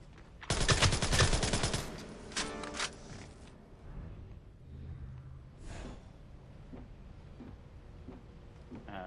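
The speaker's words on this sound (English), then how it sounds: "he's outside shooting at me" Burst of automatic gunfire in Splinter Cell Blacklist multiplayer, a loud rapid volley lasting about two seconds, then scattered fainter shots and ambient game sounds.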